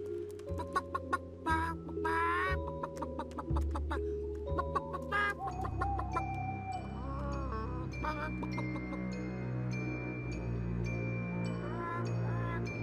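A hen clucks amid a busy musical score in a Norwegian folk tale, short clucks and notes scattered over sustained tones, moderately loud with no talk.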